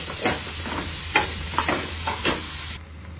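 Leafy greens sizzle loudly as they are stirred into onions frying in a pan, with a steady hiss and several scraping stirs before the sound cuts off abruptly.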